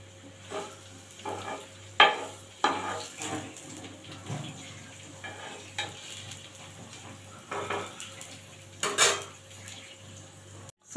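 Paratha cooking in refined oil or ghee on a pan, with soft continuous sizzling beneath repeated metallic clinks and scrapes of a utensil against the pan, the sharper knocks spaced irregularly and fairly close.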